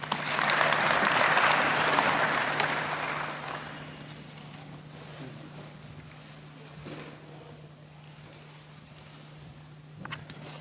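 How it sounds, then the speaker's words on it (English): Audience applause for the center manager at a graduation ceremony in Gambia, loud at first and fading after about four seconds to scattered, quieter clapping over a steady hum, with a few louder claps near the end. "A round of applause for him, please."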